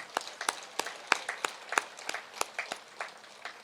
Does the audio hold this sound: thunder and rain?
no